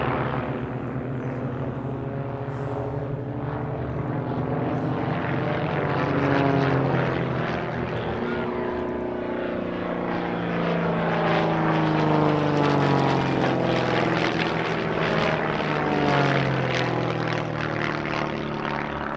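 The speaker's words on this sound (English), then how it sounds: "Team Raven fly a particularly varied and energetic display, particularly when compared to other teams flying similar aircraft types" Display-team propeller aircraft fly past at an airshow, their engines droning loudly and steadily, with the pitch shifting up and down as the planes pass overhead and break apart during the routine.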